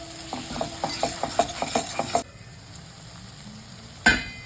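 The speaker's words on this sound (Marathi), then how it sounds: "चांगलं परतून घ्यायचं तेल सुटेपर्यंत" Chilli masala is stirred in hot oil for a black-masala drumstick curry: about ten quick, evenly spaced scraping strokes, then a pause and one sharp clack.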